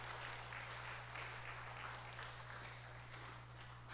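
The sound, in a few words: church congregation applause for scholarship recipients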